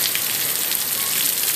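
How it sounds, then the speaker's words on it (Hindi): Heavy rain pours down steadily over a village, a dense, continuous hiss of drops drumming on surfaces, close and loud throughout with no voices. "बारिश का शोर शराबा चल रहा है अभी"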